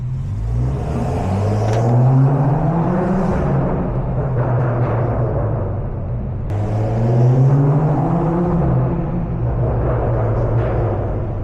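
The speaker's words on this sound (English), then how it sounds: "And let's hear this beautiful, insane exhaust." A BMW 535i F10 with a Stage 2+ tune revs loudly through its exhaust, rising in pitch twice in long sweeping pulls, with a steady droning rumble between them.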